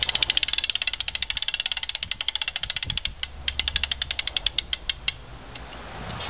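Wind-up starter on a 1966 Briggs and Stratton engine being cranked, a fast, regular series of loud ratcheting clicks that slows and spaces out toward the end, close and alone.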